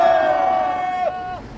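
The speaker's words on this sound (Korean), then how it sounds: "격한 함성 3초간 힘차게 외치겠습니다" A crowd at an outdoor press conference lets out a loud, sustained collective shout, one long near chorus of voices that holds and then fades.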